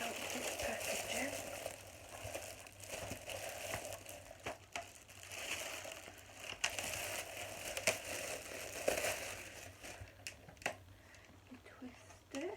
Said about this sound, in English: Take out this packaging.